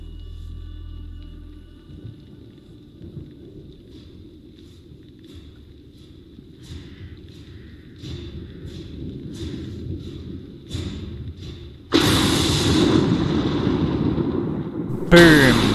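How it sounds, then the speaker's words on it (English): Big thunder in the horror game The Dark Pictures Anthology: Little Hope: a quiet stretch with soft thumps, then a loud crashing roll of thunder, followed by another sharp crack at the end. "Boom! Boom! That is some big thunder."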